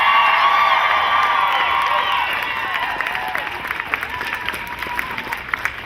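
Crowd applause greets pediatrician Dr. Robert Sears at an SB277 rally at the Capitol in Sacramento, a dense, loud wash of clapping with some cheering that holds steady and then slowly thins out.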